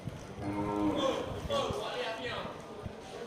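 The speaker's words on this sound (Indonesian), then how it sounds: "di sampingnya juga terlihat ini satu ekor sapi simental super" A Simmental cattle ready for slaughter lows with a long, drawn-out moo close by, followed by softer lowing and shuffling, while someone talks over it.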